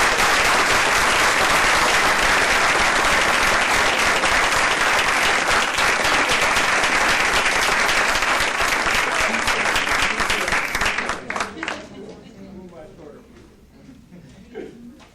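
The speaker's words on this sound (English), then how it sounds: "please give them a round of applause" Dense, loud applause from an audience at a Hispanic Scholarship Alliance ceremony, a steady roar of many hands clapping for about eleven seconds before thinning out into scattered claps and fading.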